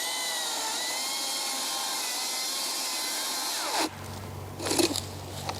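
A power saw cuts into a tree trunk with a loud, steady, high-pitched whine that holds evenly. It then drops into a lower, rougher drone with a few scraping bursts near the end.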